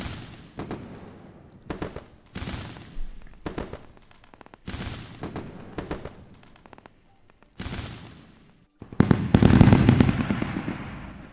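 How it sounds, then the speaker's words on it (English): Fireworks sound effect: a string of sharp booming bursts with crackling tails, spaced a second or so apart, ending in a louder, dense rumbling barrage. "Let's go for the fireworks."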